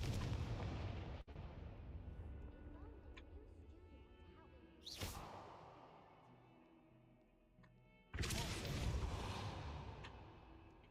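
The Confringo fire curse in Hogwarts Legacy goes off as booming blasts, with a sharp crack early, then two big explosions several seconds apart, each rumbling loudly before it fades into the game's background sound.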